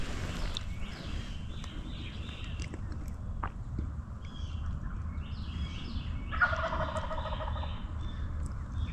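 Wild turkeys gobbling in the distance in Tennessee, several rattling gobbles across a field, faint against steady outdoor background noise.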